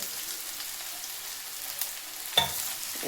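Chopped dhokla pieces being stirred in a pan for a mixed vegetable dish, with a soft, faint sizzle and a gentle scraping sound, then one brief clack near the end.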